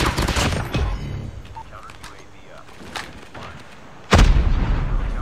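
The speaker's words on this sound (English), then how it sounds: "I heard someone shoot RPG" RPG fired in the game Call of Duty Mobile, a loud boom at the start, then distant scattered gunfire, and another heavy blast near the end.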